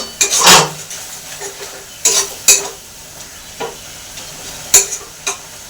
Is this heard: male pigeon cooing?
no